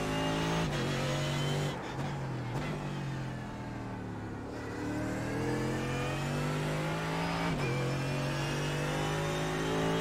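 Mercedes GT3 race car at Imola in iRacing, its engine screaming at high revs, dropping through downshifts under braking into a chicane, then climbing again through quick upshifts, close and continuous.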